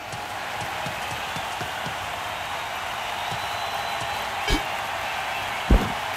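Steady roar of a cheering stadium crowd in an athletics video game after a cleared high-jump bar, a broad continuous wash of noise with a couple of brief thumps near the end.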